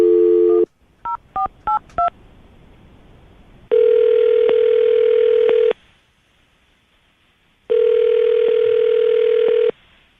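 A telephone keypad sends a quick series of short DTMF beeps as a number is dialed, followed by two long, steady ringback tones with a pause between them, heard alone without any talk.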